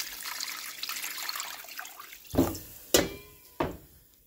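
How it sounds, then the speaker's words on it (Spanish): Water poured into a pot of browned hen with spices for soup, a soft splashing pour at first, then three sharp separate splashes or clunks near the end, close and quiet. "Voy a agregarle como unas 8 tazas de agua"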